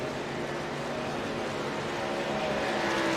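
A pack of racing trucks in an esports truck racing video game at a Las Vegas oval drone steadily together, a dense, continuous engine roar without pause.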